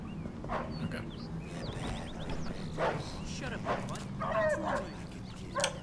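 A dog in the Mafia II game barks in several short, sharp bursts with yips, over a low steady background hum, while someone talks quietly underneath.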